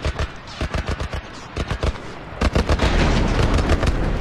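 Rapid bursts of gunfire from The Last of Us, sharp repeated shots in uneven volleys that grow denser and louder toward the end, with no talk over them.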